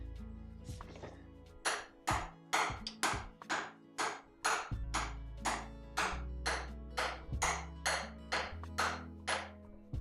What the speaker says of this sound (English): Let's try to hammer that on. Just a tap.